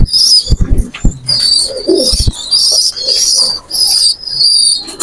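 At a Khulna pigeon loft, pigeons near an Oman 128 bird coo in repeated close bursts, broken by a few sharp wing flaps and rustles early on.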